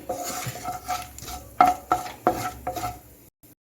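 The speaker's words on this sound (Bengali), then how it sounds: "এখন আমি ফোড়নটা একটু ভেজে নিচ্ছি" Dried red chillies and cumin seeds frying in mustard oil as a tempering, with a light sizzle under irregular clinks and scrapes of a spoon against the pan, close up, ending in brief silence.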